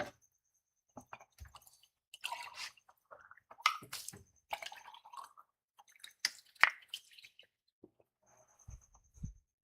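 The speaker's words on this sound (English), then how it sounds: "I just dump out my paint water cup." Water from a dirty paint-rinse cup dumped out in a garage studio, heard as scattered splashes, drips and wet squishing bursts, close and fairly quiet, with no talk.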